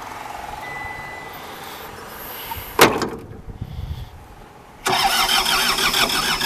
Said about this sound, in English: Go ahead and try starting it. Go ahead. Listen to the motor.